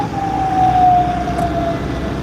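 A barangay ambulance siren in the Philippines wails with a single steady tone that slowly falls in pitch as it passes, heard clearly over a low background rumble.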